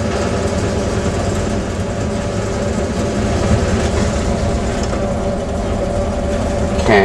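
A 1977 Ford B-700 bus engine with a Holley carburetor idles steadily with the choke partly out, a low continuous rumble, even and unbroken with a deep, heavy tone and no talking.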